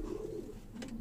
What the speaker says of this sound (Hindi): और ये कबूतर है जी माशाल्लाह